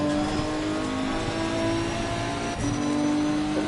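Race car engine in Assetto Corsa Competizione, a steady loud droning rev with strong tonal harmonics, briefly dipping once before holding again, with no voices.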